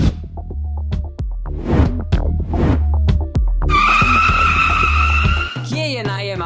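Car tires squeal and skid in a racing video game about supercars, a Ferrari among them, with sharp repeated screeches over engine roar and electronic tones, loud and close, while voices talk.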